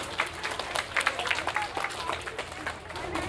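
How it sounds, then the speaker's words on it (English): Audience applause at a school winter concert, scattered clapping from a crowd with murmured voices mixed in, moderately loud. "So let's give her a round of applause as well."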